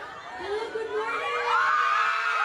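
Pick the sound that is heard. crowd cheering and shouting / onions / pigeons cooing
crowd cheering and shouting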